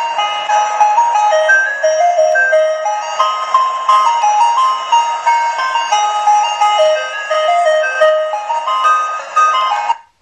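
A Triton MP3 wireless car horn kit playing a tune from a USB drive, a loud, tinny electronic melody of bright beeping notes like an ice cream truck, continuous for about ten seconds before cutting off, with no talking.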